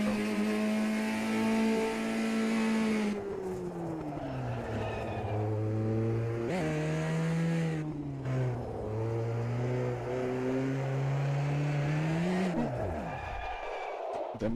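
The engine of a Formula Trainer Advanced race car in a racing video game at Silverstone whines loudly and continuously, rising through the gears, dropping in pitch under braking for corners, then climbing again.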